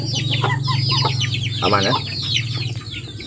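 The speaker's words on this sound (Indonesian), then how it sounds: "Ini ayam kecil. Ayam kecil." Small chicks cluck and peep close by in a rapid, busy chatter of short calls, with a person speaking briefly over them.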